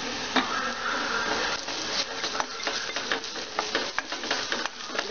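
Onions frying with a spoonful of ginger garlic paste for an Andhra-style prawn curry: a steady close sizzle with repeated scraping and stirring clicks from a spoon against the pan, no talking.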